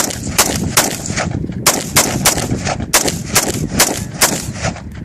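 An AR-15 rifle fires rapidly outdoors. Loud, close, sharp cracks come in quick uneven bursts of about a dozen shots over five seconds.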